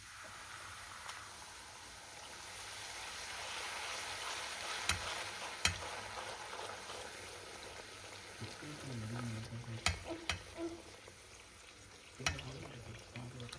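Plain boondi, small droplets of gram flour batter, frying in hot oil that was already used for another snack, in a home kitchen: a steady broadband sizzle with a few sharp clinks of stirring, no voices.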